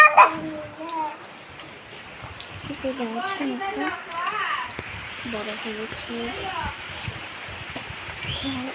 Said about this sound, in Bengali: কিরকম বৃষ্টি হচ্ছে